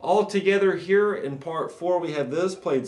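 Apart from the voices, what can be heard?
No everyday noise stands out behind the speech.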